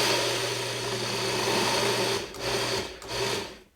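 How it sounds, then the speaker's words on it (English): A food processor runs steadily, close and loud, blending dry ingredients with cinnamon and nutmeg for Brunsli cookies, then pulses briefly twice before cutting off at the end. "Going to run the processor again, just quickly to combine all those ingredients."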